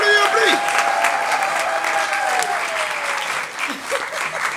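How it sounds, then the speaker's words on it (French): Crowd at an improv theatre festival in Paris applauding steadily, thick close clapping with a few whoops, tapering slightly near the end. "On l'applaudit très fort, on l'applaudit"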